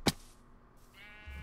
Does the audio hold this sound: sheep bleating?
yes